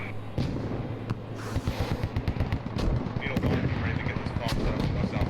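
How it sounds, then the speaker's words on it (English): Mortar impacts and rapid gunfire crackle through a video game battle, dense bursts of sharp shots and thuds arriving in quick succession, with a commentator talking over the fighting. "Lots of mortars coming in here."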